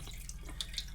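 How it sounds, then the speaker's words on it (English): Hot water runs from a tap in an off-grid cabin after the antifreeze is flushed from the line: a steady, quiet stream with a few brighter splashy spurts and a low pulsing hum underneath. "now the hot water's got to flush the antifreeze out of it"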